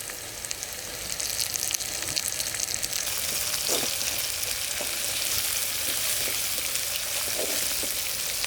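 Onion, asafoetida and curry leaves frying in hot oil for a sambar tempering in a village kitchen, a loud continuous sizzle with occasional crackles and stirring scrapes, no voices.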